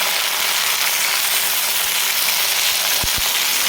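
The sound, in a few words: potatoes frying in oil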